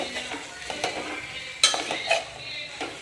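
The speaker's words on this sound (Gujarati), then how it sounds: "પૌવાને મસ્ત રીતે મિક્સ કરી દઈ" Poha and cooked potatoes get stirred in a pan over a soft, steady sizzle, with light scraping and occasional metallic clinks of the spoon against the pan.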